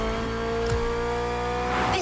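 A BMW Z car engine in The Crew Motorfest drones at a steady pitch, then rises briefly near the end, with a voice speaking over it.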